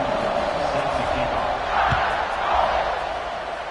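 A big football stadium crowd roars steadily before kickoff at a Georgia vs Alabama game, a dense, continuous wash of cheering that swells slightly midway and fills the whole stretch.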